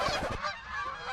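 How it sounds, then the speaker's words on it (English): Canada geese honking: a few loud, harsh nasal honks up close, running into noisy outdoor wind with no talking. "The Canadian geese had something to say about it too."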